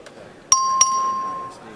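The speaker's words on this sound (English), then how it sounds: "The clerk ring the bell." A House chamber bell rings out for a record vote, two bright metallic strikes in quick succession followed by a sustained ringing tone that fades after about a second.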